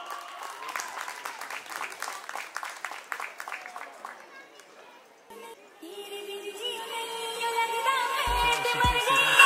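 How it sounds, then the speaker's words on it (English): Clapping from the audience at an annual dance academy event rises for dancer Nisha and fades after a few seconds, then gives way to loud music that builds to the end. "can we have a big round of applause for Nisha?"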